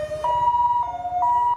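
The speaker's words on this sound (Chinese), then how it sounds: "救护车到场" An ambulance siren wails near and loud, stepping steadily between two tones, as it arrives at a night rescue in a dimly lit mountain area after a forklift overturned on a slope.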